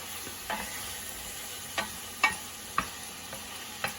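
Onions sizzling in a pan for a Campania-style ragù, a soft steady fry hiss punctuated by occasional faint stirring clicks, with no talk.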